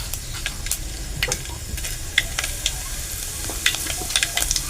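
Mustard seeds and cumin crackle and sizzle in hot oil in a pan, with a steady fry hiss broken by sharp, irregular pops, close and fairly loud, with no talking.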